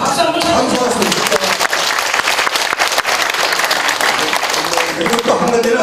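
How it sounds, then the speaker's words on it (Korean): Continuous, dense applause fills a hall at a city mayor's New Year community meeting with residents, loud and close, with many hands clapping steadily throughout. "박수 한번 감사합니다"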